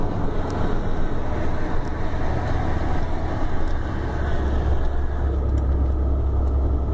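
Vehicle engine labouring up a steep mountain road in low gear at Serra do Cadeado, Paraná, a loud steady rumbling drone with constant road and wind noise.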